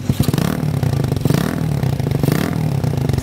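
A Suzuki Raider 150 carburetor motorcycle fitted with an aftermarket pipe revs hard and close, its raspy engine note surging and dipping through several blips with a rattling, clattering edge.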